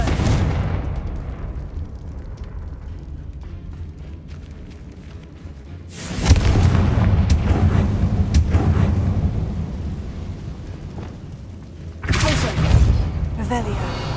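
Fire spell explosions in the video game Hogwarts Legacy, with two loud booming bursts that roar and crackle for several seconds each, set against a lower rumbling game soundscape.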